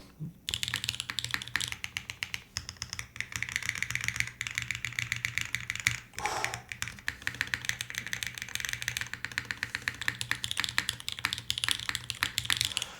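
Rapid, continuous clacking of a mechanical keyboard with copper inserts being typed on, close and steady with only a brief pause midway.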